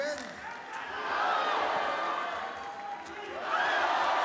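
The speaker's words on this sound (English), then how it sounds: "This crowd screaming every time his Takuya lands" An arena crowd at a mixed martial arts bout roars and screams, swelling and falling in loud waves, while a commentator talks over the noise.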